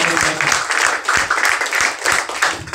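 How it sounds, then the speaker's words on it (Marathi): An audience at a political rally breaks into loud applause, with sustained clapping and some voices mixed in. "हे बोलत असताना जितक्या टाळ्या वाजल्या"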